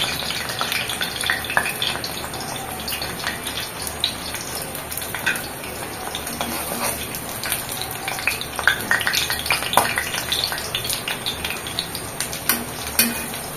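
Banana adai pancakes fry in a pan, giving a steady crackling sizzle with scattered small clicks and scrapes of a utensil, close and continuous with no talking.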